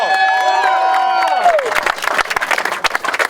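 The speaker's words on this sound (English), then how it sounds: "give Brother Clarence Thomas one more round of applause" Crowd clapping and cheering at an outdoor May Day rally and caravan in Oakland, bursting in loudly after a sustained electronic whine and continuing as scattered, uneven claps.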